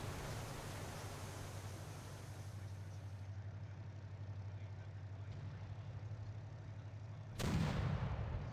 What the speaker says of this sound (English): Only the French battleship's in range. It's shooting at them.